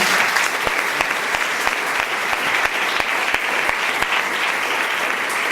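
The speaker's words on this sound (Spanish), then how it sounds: "un aplauso muy fuerte para Encarna" An audience at a public talk on faith in public life breaks into loud, sustained applause, dense rapid clapping that continues steadily throughout.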